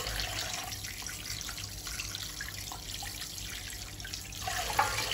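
Water from a kitchen tap runs steadily as pieces of mutton are rinsed clean in a sink, a constant close splashing stream with small drips and a brief clatter near the end.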